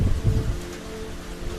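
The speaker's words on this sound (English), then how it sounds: "Oh, if the rain's coming in now." Rain falling outdoors, a soft wash of drops with a low rumble at the start that fades to a steady, faint patter.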